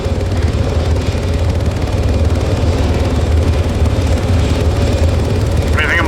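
A Ghost Hawk helicopter's rotors thump loudly and continuously in a military video game, a dense, steady drone filling the whole stretch with no break.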